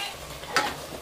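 A spoon stirs boiled chicken through tomato masala in a pot, giving one brief scraping swirl at close range over faint kitchen background, with no one talking.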